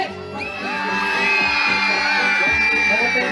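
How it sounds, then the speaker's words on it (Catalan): A group of children at a children's carnival shout loudly together for a photo, a sustained rising whoop and cheer from many young voices close by, lasting a few seconds. "I farem un crit ben fort."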